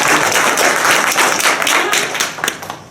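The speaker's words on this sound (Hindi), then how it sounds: "तो ताली बजनी चाहिए।" An audience at a village meeting claps in a steady, dense round of applause that fades slightly toward the end.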